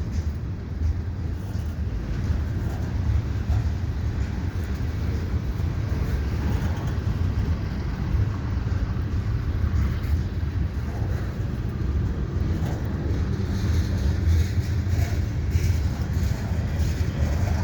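A CN freight train loaded with gondola cars rolls past on the far track at the Lachine Canal bridge approach in winter, a steady, dense low rumble and roar sustained throughout with no voices.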